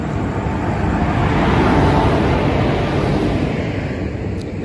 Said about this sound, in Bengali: আমাদের ট্রেন ঢুকে গিয়েছে, দেখতে পাচ্ছ।